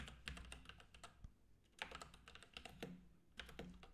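Quiet, close typing on a computer keyboard during live Rust coding, a short burst of irregular key clicks in small clusters with no talk.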